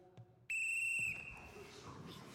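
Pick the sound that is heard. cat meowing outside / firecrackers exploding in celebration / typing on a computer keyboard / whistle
whistle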